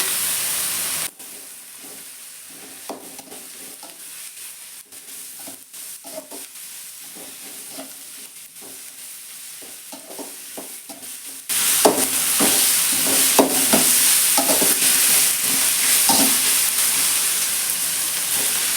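Ginger garlic paste frying in a pan, starting as a quieter sizzle with intermittent stirring scrapes, then jumping to a louder, hissing, steamy fry that continues with more stirring, close up and without talking.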